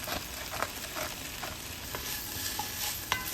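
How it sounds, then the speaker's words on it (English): Potatoes and onions seasoned with salt and pepper sauté over low heat in a pot, giving a steady soft sizzle broken by a few scraping stirs. "Sauté until onions are all soft, about 7 minutes at low heat."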